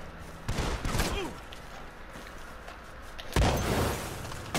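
Bursts of video game gunfire in an online shooter match, a loud rattling volley early on and another sharp burst near the end, with fainter shots and game noise between.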